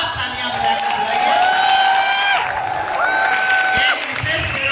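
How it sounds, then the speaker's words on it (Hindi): Loud applause from a crowd at a kavi sammelan poetry gathering, a dense sustained wash of clapping with cheering and voices carrying over it. "अगर उसका भाव ठीक हो तो जरा एक बार जोरदार तालियां बजाकर बुलाइए।"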